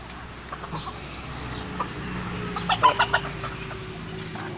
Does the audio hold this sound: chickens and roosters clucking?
yes